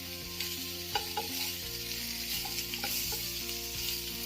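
Paneer fries in a hot pan for a paneer roast starter, giving a steady close sizzle with a few soft scraping stirs and light clinks throughout, no voices.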